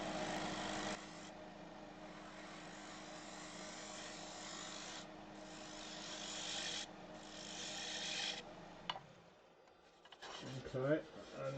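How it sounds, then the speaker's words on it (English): A spindle gouge shear scraping wood on a lathe makes a steady, close rasping hiss over the spinning workpiece's hum, breaking off into pauses and ending with a few scratchy, uneven strokes. "I'm just going to do a bit more delicate shear scraping this spindle gouge"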